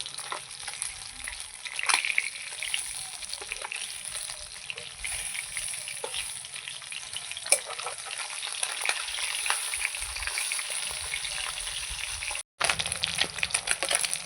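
Freshwater fish frying hard in a pan, continuous crackling sizzle close up with occasional sharp pops and spatter, briefly cutting out near the end.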